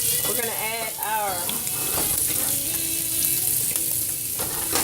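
Shrimp fried rice sizzling in a hot pan as the rice and vegetable mixture goes in with the shrimp, a steady frying hiss with stirring throughout, while a person talks over it at first.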